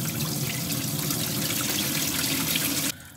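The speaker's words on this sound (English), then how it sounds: "So now we'll turn the water back on." Steady, fairly loud rush of water running from a caravan tap after the supply is turned back on, continuing evenly before dropping suddenly to a quieter trickle at the end.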